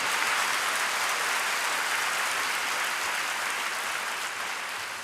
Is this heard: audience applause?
yes